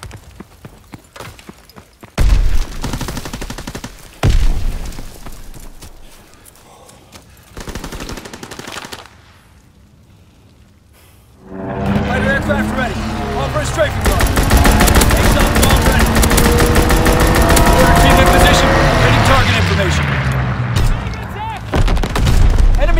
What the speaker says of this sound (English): Fighter pilot in your area. Call for a strafing run.